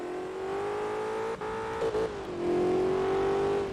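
A Shelby Cobra engine in the racing video game Forza Motorsport 2 hums steadily at high revs, dipping briefly twice, then climbing into a louder, sustained roar, with no talking.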